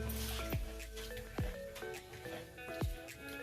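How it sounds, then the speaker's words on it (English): Water sloshes, drips and squishes as uncooked rice is rinsed in a bowl of water to wash starch out, with a few brief wet splashes close by over a soft, steady background. "we're just rinsing some of that starch out of our rice water mixture"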